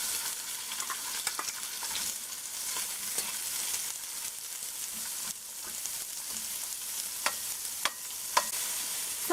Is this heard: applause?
no